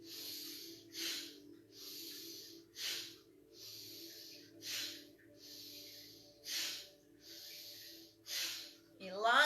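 Slow, deep breathing during a guided breathing exercise: long airy inhales and exhales alternating at an unhurried pace, close to the mic, over a low steady hum.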